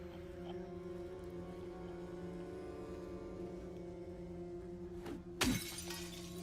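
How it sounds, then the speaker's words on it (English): Glass shattering in the Silent Hill video game: a single sharp crash with a brief scatter of fragments, arriving after several seconds of low droning ambience. "Break the glass. There we go."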